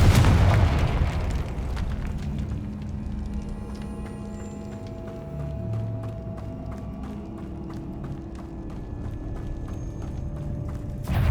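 A Confringo spell blasts in Hogwarts Legacy, a heavy booming explosion at the start, then rumbling combat noise with scattered pops and a second burst at the end.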